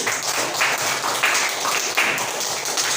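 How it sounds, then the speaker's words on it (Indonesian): Classroom applause for a student group, a dense steady patter of many hands clapping close by for about three seconds. "tepuk tangan untuk kelompok 1"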